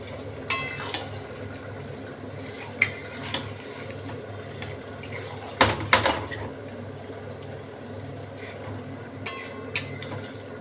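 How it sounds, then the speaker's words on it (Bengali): Chicken stir-frying in a pan on full heat for shahi gravy chicken, with a low continuous sizzle broken by scattered spatula scrapes and clacks, a brief louder clatter midway, close and moderately quiet. "ফুল আঁচে এবার আমি কষবো, মানে ভুনবো"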